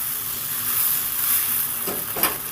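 Egg chowmein being stirred in a hot pan, a steady sizzle of frying with a few louder scraping stirs near the end, close and continuous with no talk.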